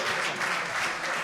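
A brief, steady burst of audience clapping greets the co-host at a sales leader awards evening in a hotel venue, a dense crowd applause at moderate volume.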